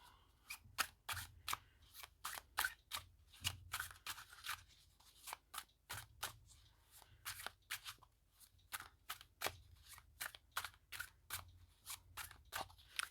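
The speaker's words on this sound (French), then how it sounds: "Et le tarot qu'on va devoir mélanger un petit peu plus peut-être du coup." A tarot card deck is shuffled by hand, a quick series of crisp, close snapping card riffles and flicks in irregular bursts, quiet and alone with no talk.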